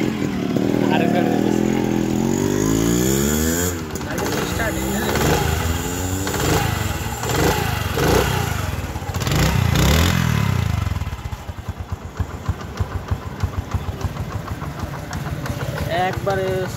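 A Honda CD80 motorcycle engine idles with a steady low rumble and clatter under continuous talk, then runs alone at a slow, faint, even idle toward the end.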